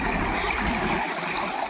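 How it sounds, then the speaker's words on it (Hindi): Water of a stream flows steadily and continuously, a dense broadband rush heard up close with no breaks. "ओके, तो ये देखो यहाँ पर ये पानी की आवाज़ है।"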